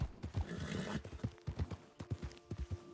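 Horse hooves clop in a modded multiplayer video game, a fairly quick, uneven run of hoofbeats close by with a brief whinny-like sound and no talking.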